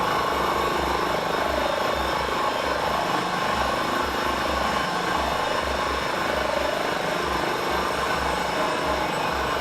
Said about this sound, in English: Engine 2's off, and there we go. The torque's down to nothing, and the blades are probably slowing down right now.